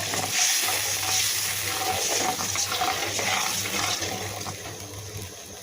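Steady loud sizzling and bubbling from a hot pan of shrimp curry after hot water is poured in, a continuous frying hiss with soft watery churning throughout.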